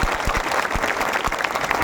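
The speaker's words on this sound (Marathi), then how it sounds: "मॅडम ताईंचं जोरात टाळ्या वाजून या ठिकाणी स्वागत करावा." An audience claps to welcome a guest: a short burst of dense, steady applause from many hands nearby, with a few louder individual claps standing out and no voice over it.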